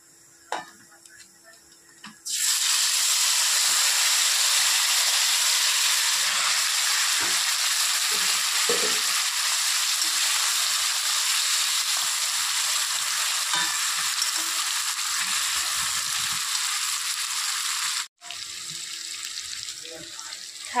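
Fish dropped into a pan of hot oil sets off a sudden loud, broad frying hiss that holds steady for about fifteen seconds, briefly cuts out, then carries on more quietly.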